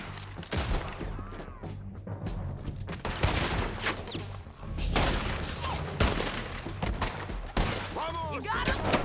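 Red Dead Redemption 2 gunfire in a chaotic shootout, with repeated sharp shots and bursts across the whole stretch, some close and loud, layered over game music, along with voices calling out.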